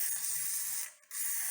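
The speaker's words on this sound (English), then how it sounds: "So you just will spray a little bit" Cleaner is sprayed into the upper receiver of a Smith and Wesson M&P 15-22 rifle, a close, loud aerosol hiss in two bursts separated by a brief pause.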